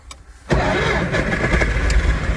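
An MTZ-892 tractor diesel engine cranks on the starter and catches half a second in, then rumbles loudly and steadily close by with no talk over it.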